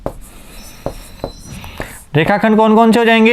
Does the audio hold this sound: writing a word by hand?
yes